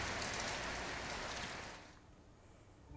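Heavy rain pours down during a thunderstorm in Balasinor, Gujarat, a dense steady hiss that eases slightly toward the end, with no voices.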